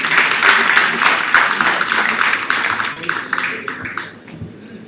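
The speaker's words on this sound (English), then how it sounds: "Let's welcome him with a warm round of applause" An audience at an international agriculture conference at a university applauds to welcome a speaker, a dense burst of clapping that gradually thins and fades toward the end.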